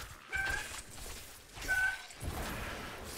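A house cat meows indoors, two drawn-out cries about a second apart over low background noise, fairly close.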